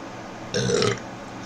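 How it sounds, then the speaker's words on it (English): A single short belch erupts from a man mid-monologue, about half a second long, close and fairly loud against a quiet room tone. "Excuse me about the belch, by the way."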